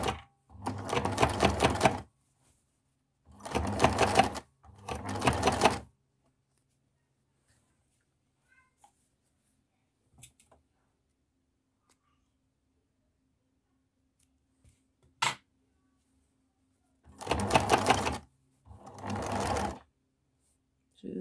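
Sewing machine stitching fabric for a wipes basket, running in four distinct bursts of a couple of seconds each, fairly close and loud, separated by quiet gaps with a few faint clicks.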